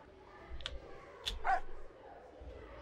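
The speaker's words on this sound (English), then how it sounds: "If you go far away, bark loudly so I can find where you are." A dog in the video game Ian's Eyes gives a few short, sharp barks and yips over a quiet background, spaced across the moment with one louder burst near the middle.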